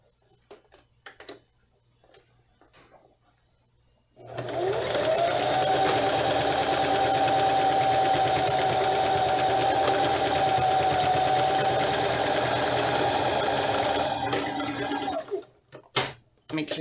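A sewing machine runs steadily for about eleven seconds, stitching and backstitching a fabric scrunchie with elastic inside. The whir is close and loud, with brief handling noises before and after.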